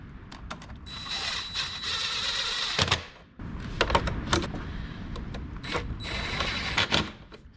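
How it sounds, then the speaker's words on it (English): An electrical connector on a Lincoln MKZ Hybrid engine, such as the mass airflow sensor plug, is pushed in until it clicks. Several short, sharp plastic clicks and snaps stand out nearby against a steady background of workshop noise. "We'll plug our other side in till it clicks."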